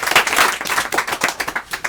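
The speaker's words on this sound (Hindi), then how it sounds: "एक बार जोरदार ताली से इनका स्वागत किया जाए" Audience applause greeting a contestant on a quiz game show, a dense burst of clapping that starts strong and breaks into rippling, uneven claps as it fades.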